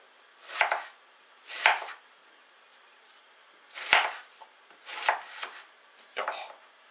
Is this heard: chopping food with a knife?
yes